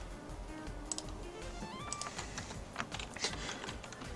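Quiet typing on a computer keyboard during a game stream, irregular soft key clicks in quick bursts over low background game music.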